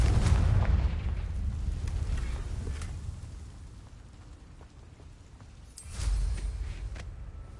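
A Confringo explosive spell cast in a video game bursts with a loud, booming rumble at the start that fades over several seconds, followed by a second heavy boom near the end.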